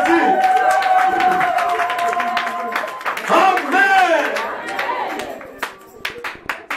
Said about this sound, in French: Donnez les acclamations à Jésus.